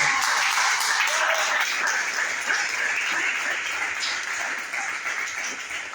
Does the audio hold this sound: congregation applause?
yes